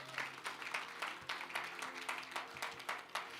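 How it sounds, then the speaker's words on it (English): A church congregation at an anniversary celebration claps along in a quick, steady rhythm, the sharp hand claps faint and somewhat distant. "Clap your hands for Jesus."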